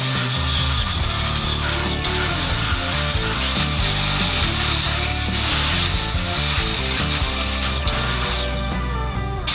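Seams on a car body being sanded with a power sander, a loud continuous rough grinding and rubbing with fluctuating pitch and short breaks, close by throughout.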